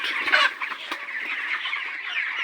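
Chickens cluck steadily on a poultry farm, a dense, continuous flock chatter with a few louder calls standing out near the start.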